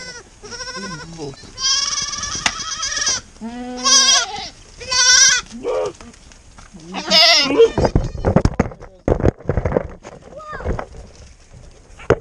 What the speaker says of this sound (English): the boy goats went crazy, so they're running around like crazy